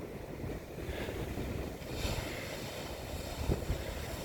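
Small ocean waves break on the beach at the South Jetty in Florence on the Oregon coast, giving a continuous close wash of surf mixed with heavy wind buffeting on the microphone.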